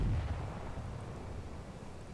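The main gun of an SU-85i tank fires in a tank battle video game, a single heavy, booming blast with a low rumbling tail that fades over two seconds.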